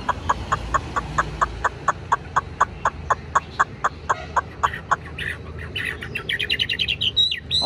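A tame, large-bodied Chinese hwamei with a golden beak sings in its cage. It gives a long run of evenly spaced, ringing whistled notes, then shifts into faster, more varied phrases, loud and close against a low background hum.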